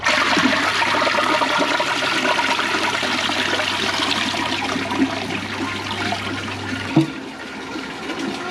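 A clogged 2004 Eljer Patriot toilet flushes with a steady, loud rush of water lasting about seven seconds, ending in a short gurgling knock as the bowl stalls.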